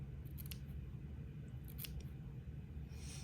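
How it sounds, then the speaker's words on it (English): Sharp scissors snip a few small notches into fabric along the curve under the armhole of a baby girl's layette garment, several quick close snips in clusters over a quiet background. "Let me cut a couple of little notches along here where it makes that curve underneath the armhole."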